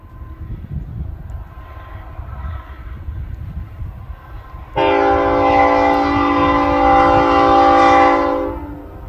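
A Canadian National freight train north of Conrath rolls past with a low rumble, then its horn blasts loud and close for several seconds before fading.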